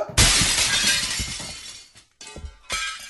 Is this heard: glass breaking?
yes